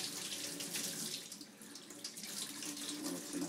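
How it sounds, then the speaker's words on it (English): Water running and splashing as it drains off rice in a tilted pot while making Jamaican-style rice and peas, a steady close pour throughout. "When it's in a slant, you get the water to drain off much easier and faster without throwing away your rice."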